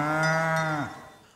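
A cow gives one loud, drawn-out moo about a second long that sags in pitch at the end and fades away.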